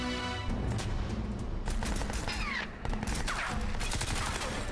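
Rapid machine gun fire rips through a firefight in Crysis 3 Remastered, sustained bursts with brief gaps, dense and close, with ricochet-like whines cutting through.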